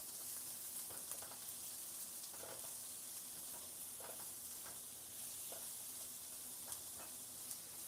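Soft, steady sizzling of onions sweating in a pan, a constant hiss with faint crackles and a few light clinks, quiet and close, with no talking.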